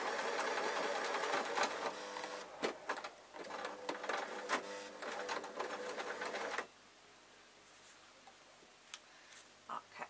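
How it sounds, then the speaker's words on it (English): A sewing machine runs in steady, close bursts as it stitches soft unicorn toy ears in black thread, then stops abruptly with quiet handling noises after. "I'm going to sew it all in black, just so that you can see the stitches"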